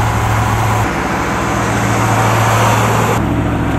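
A 1983 GMC K10 truck engine idles steadily and loudly close by, a constant low rumble with a brief shift in tone near the end, and no talking over it.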